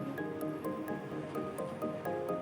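Curd goes into a pan of spiced masala while paneer biryani is cooked, giving soft wet squelching and dripping with a few crisp clicks from a spoon, close and fairly quiet.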